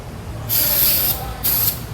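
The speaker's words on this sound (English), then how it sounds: "We're also going to throw a little lithium grease on the cylinders." Lithium grease sprays onto the cylinders of a Sno-Way snow plow in two close, loud hissing bursts, a longer one followed by a shorter one.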